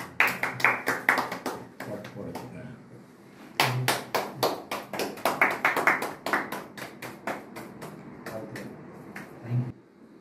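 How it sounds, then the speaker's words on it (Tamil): Audience at a transport monitoring committee event clapping in irregular bursts of sharp, close hand claps, with a pause before a second round. "நல்லா கைத்தட்டியா"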